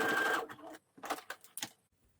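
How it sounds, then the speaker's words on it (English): A sewing machine stitches a seam in several short, quiet bursts of whirring, stopping and starting close by, with no talking. "I'll just sew it so I can pull it out"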